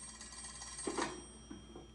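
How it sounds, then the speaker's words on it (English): An old telephone rings in a Peaky Blinders episode, a steady bell-like trill over a faint hum with low thuds, heard at moderate distance. "You should answer the phone, Mr. Shelby."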